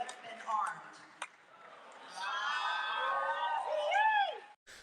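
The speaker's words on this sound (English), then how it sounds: "the crowd at first kind of does the wow, and then kind of ends up not really being too bothered by it" A crowd lets out a rising, sustained collective "wow" of surprise that swells over a couple of seconds and then fades, preceded by brief scattered voices.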